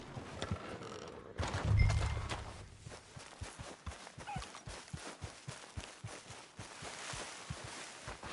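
Horse hooves clip-clop in a PS4 video game, a steady, moderately loud rhythmic series of hoofbeats after an initial thud, with no voices over them.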